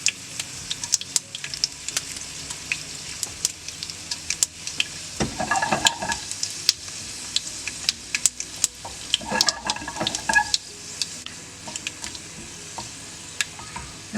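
Dried red chillies fry in hot oil for a garlic pickle, a steady crackling sizzle with sharp spattering pops and occasional stirring scrapes in the pan, close and continuous throughout.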